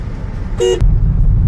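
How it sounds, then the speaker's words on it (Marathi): A single loud car horn blast about a fifth of a second long rises out of steady, rumbling road traffic, with engine and tyre noise continuing close by before and after it. "इथे ट्रॅफिक आहे तेच सांगते तुला"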